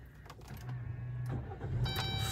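A jeep's engine is started with the ignition key while the brake pedal is held down, then settles into a steady low idle hum close by. Small clicks and rattles sound around the start.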